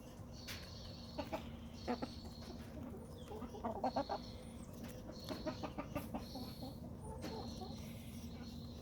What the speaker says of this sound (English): Chickens can be boisterous.